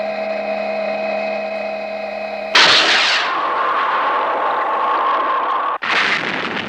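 Heavy bombardment explosions striking a mining platform as a TV sound effect: a hum with steady tones cut by a sudden loud blast, then a long roaring rumble and a second sharp blast near the end.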